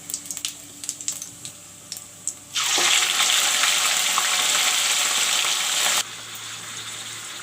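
Mutton dropped into hot oil in a pan for curry, a sudden loud burst of steady sizzling hiss that holds for a few seconds then drops to a softer bubbling, after some light clinks.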